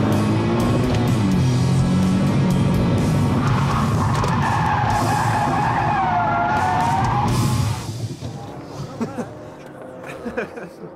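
Car skidding under hard braking while reverse parking on a competition driving course, a loud sustained tyre squeal with shifting pitch that cuts off abruptly, followed by quieter background noise and voices.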